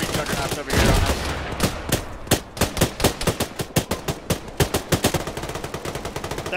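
Automatic weapons fire in a military shooter game, with sharp, loud shots in quick bursts, some rapid regular strings and some scattered single cracks, following a heavy early blast.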